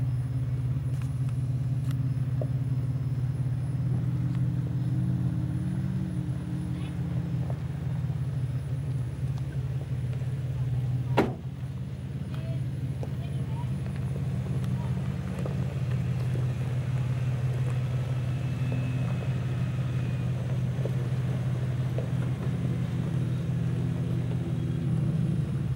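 A 4x4 vehicle driving off-road in two-wheel drive, with a steady low engine rumble running throughout and one brief sharp knock partway through.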